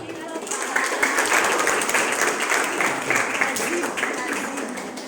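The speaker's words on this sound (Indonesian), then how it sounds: "Tepuk tangan untuk Habib dan teman-temannya lagi buat film." An audience applauds at a school career talk at SMK Losarang in Indramayu, steady broadband clapping filling the room for about five seconds with voices mixed underneath.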